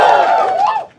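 A live comedy-show crowd cheers and shouts for a visiting singer in one loud, brief roar that swells and then fades within a second.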